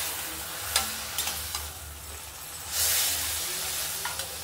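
Ingredients with turmeric and salt frying in oil in a pan as they are stirred, a soft sizzle with occasional scraping strokes and a louder hiss swelling partway through, no voices.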